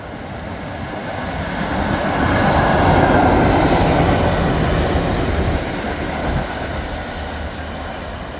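A Rail Head Treatment Train passes through Nuneaton station on the West Coast Main Line, running from Kings Norton to Bletchley: a loud, steady broadband roar of wheels and engine that swells near the middle and holds, with no talking.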